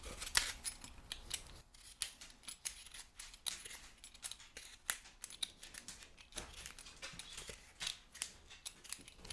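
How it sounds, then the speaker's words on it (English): A tough vegetable stem being trimmed with a paring knife over a cutting board gives close, quiet ASMR-style scraping and snipping cuts, irregular and repeated throughout. "You can just take a paring knife and trim that up."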